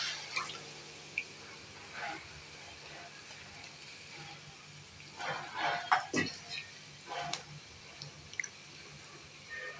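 Beaten egg is poured into a hot pan for chappathi noodles, giving a faint sizzle with a few soft drips and splashes that grow a little busier toward the middle of the clip.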